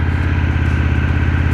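An Indian FTR motorcycle idles with a loud, close, steady exhaust rumble, its crisp low pulsing throb unbroken throughout.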